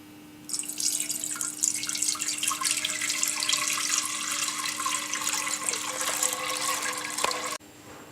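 Milk pours steadily into a pot for about seven seconds, a continuous close splashing and trickling stream that stops abruptly, with no talking.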